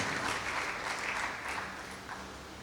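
A church congregation gives steady, dense applause in honour of the Lord at a Christian gathering led by a priest, filling the space evenly and fading slightly toward the end.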